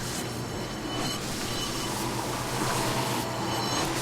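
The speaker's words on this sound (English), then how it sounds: "Is this a train?" Train in a video game rumbles and clatters past in a dense, loud, continuous roar with hissing and metallic rattling throughout, heard alone without talking.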